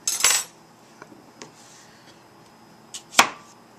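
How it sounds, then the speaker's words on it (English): Knife slicing cucumbers into round circles on a board for a Tibetan salad, a burst of cutting and clatter at the start, then a few sparse light taps and one sharp knock near the end, quiet between. "First I can cut the cucumbers."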